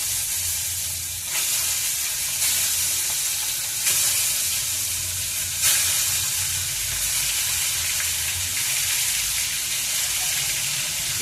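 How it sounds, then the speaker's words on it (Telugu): Eggplant pieces sizzle and fry steadily in hot oil for a Telugu-style brinjal curry, a continuous close hiss with a few brief louder surges as the pieces are stirred or shift in the pan. "చూడండి, వేస్తున్నాను, ఆయిల్లో వేస్తున్నాను."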